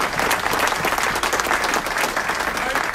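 City council meeting audience giving a round of applause to an animal care manager, dense steady clapping filling the room throughout, fairly loud and even.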